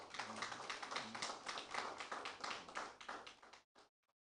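A group of teachers at a training-programme event claps together, a dense, close burst of applause that runs steadily for several seconds before tapering into a few last scattered claps.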